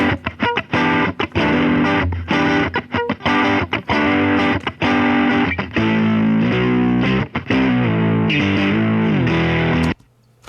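Distorted electric guitar recorded through two microphones combined plays a chunky riff of chords and palm-muted strikes, full and loud, with brief gaps before ringing out and cutting off near the end.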